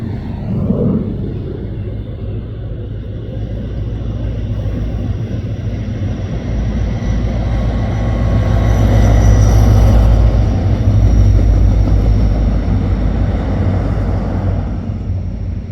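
A two-car Mugunghwa passenger train from Yeongju to Gimcheon rumbles past slowly on a bridge, a low, sustained rolling drone that swells toward the middle and eases off, with no talk over it.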